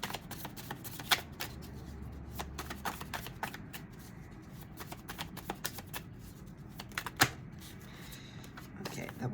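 Tarot cards are shuffled close up in quick irregular riffles and snaps, with a few sharper slaps among softer rustling.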